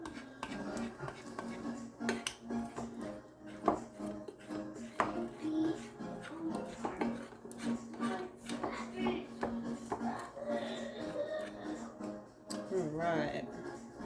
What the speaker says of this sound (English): we're going to go ahead and scrape down the sides of our bowl to make sure we get everything